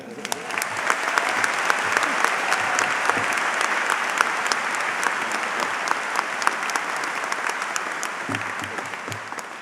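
A large audience at a high school commencement applauds in a long, sustained wave of close, dense clapping with scattered sharper claps, and no voices over it.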